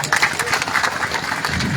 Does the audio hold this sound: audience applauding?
yes